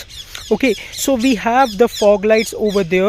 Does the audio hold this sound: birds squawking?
yes